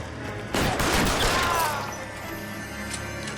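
A burst of pistol fire from the video game L.A. Noire, several rapid, loud shots crowded together over about a second, then fading into a low game ambience.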